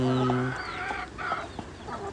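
Rhode Island Red chickens cluck nearby in a farm setting, a few short, repeated clucks and murmuring calls overlapping, moderately loud, with a brief harmonic call at the start.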